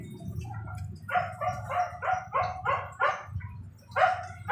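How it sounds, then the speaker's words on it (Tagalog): A neighbor's dog barks outdoors in a rapid run of about seven sharp yips, pauses, then barks twice more, fairly close over a low background hum, with no talking. "yung asong yan sa kapitbahay. Hinahanap na naman yung amo niya."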